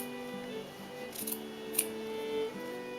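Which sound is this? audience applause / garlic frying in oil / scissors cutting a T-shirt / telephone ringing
scissors cutting a T-shirt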